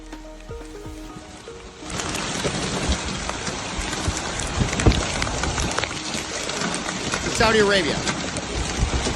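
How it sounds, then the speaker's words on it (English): Heavy rain and a hailstorm in Saudi Arabia make a dense, steady roar that begins abruptly and continues throughout, with a voice speaking briefly over the start. "the Saudi Arabia heavy rain and hailstorm that was happening on the 15th"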